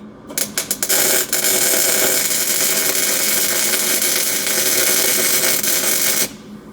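A welding gun arc strikes with a few sharp crackling bursts, then settles into a loud, steady buzzing hiss for about five seconds before cutting off abruptly.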